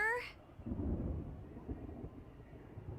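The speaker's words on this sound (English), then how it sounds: "Ominous thunderstorm" Low, rolling rumble of distant thunder from an ominous thunderstorm in the Persona 5 Royal video game, a soft sustained grumble lasting a few seconds after a brief voice at the start.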